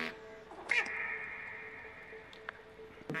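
A cat meows in the video game Stray, a drawn-out nasal cry at moderate level over a quiet game soundtrack, followed by a couple of faint ticks.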